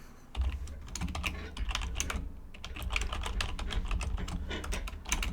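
Rapid, uneven keystrokes clatter on a computer keyboard without pause for about five seconds, close and fairly clear, with no voices.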